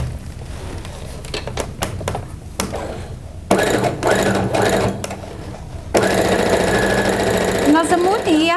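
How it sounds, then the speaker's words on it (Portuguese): Sewing machine stitching quilted fabric pieces together for a wolf-mouth style zip pouch, running in bursts that grow louder and steadier, its motor whirring continuously in the second half with a few brief pauses between runs. "Coloco ela aqui e aí eu vou costurar, vou unir essas partes. Então, vamos para a máquina."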